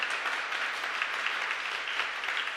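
An audience at a Sunday church service claps for a visiting guest speaker, a steady, dense patter of applause that fills the room evenly from start to finish with no voices over it.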